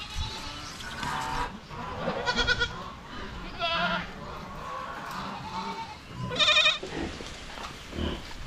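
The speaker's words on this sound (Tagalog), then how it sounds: "Mahilig maglaro sa bato yung mga kambing." Goats clambering on rocks outdoors bleat now and then, with several loud nasal bleats spread across the stretch above a rustling background, with no talking.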